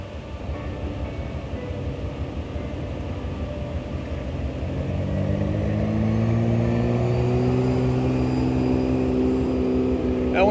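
A military scout car drives past in a Veterans Day parade, engine rumble building from a distant drone to a louder, closer growl with rising tones midway, outdoors.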